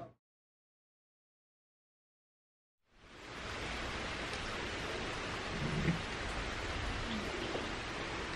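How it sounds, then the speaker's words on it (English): Steady rain hisses evenly after a few seconds of silence, a constant wash of falling water. "It's raining."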